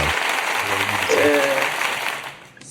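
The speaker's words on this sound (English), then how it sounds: "That deserves a round of applause too." A short round of applause rings out, a steady wash of clapping heard under and between people talking.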